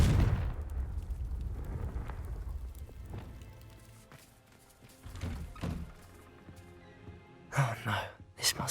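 A Confringo blasting spell in the Hogwarts Legacy video game goes off with a heavy, booming thud at the start, followed by rumbling debris, quieter thumps and a burst of crackling near the end.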